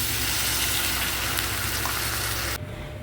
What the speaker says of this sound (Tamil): 1 கப்பு ரவைக்கு 2 கப்பு தண்ணி சேர்த்துக்கலாம்.